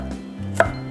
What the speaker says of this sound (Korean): 파프리카 다이아몬드 스타일로 이렇게 모양으로 썰어 줄게요